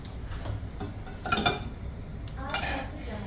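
Taco casserole ingredients stirred together in a dish, with a few scraping clinks of a utensil against the dish at the start and middle and quiet handling sounds between.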